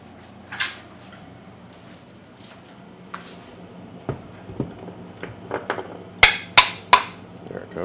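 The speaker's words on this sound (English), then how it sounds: "Let's get a hammer to tap on it." Sharp metallic taps from a hammer striking the housing of a dead-on-arrival Stihl hedge trimmer, several isolated knocks that build into a louder cluster of close, distinct blows near the end over a quiet background.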